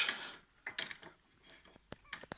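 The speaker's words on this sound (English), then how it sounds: "you unscrew this long bolt, okay, take out this bolt" A long bolt is unscrewed from the pannier support rack mounting plate on a Royal Enfield Himalayan motorcycle, with a few close metallic clicks and ratcheting scrapes in short irregular bursts and no talk.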